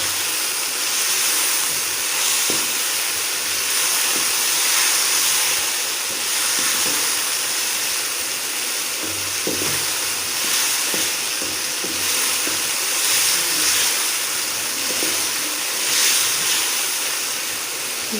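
Green chilies and spices frying in a pan for a spicy chicken macaroni, a steady loud sizzle with occasional scraping stirs and clinks throughout.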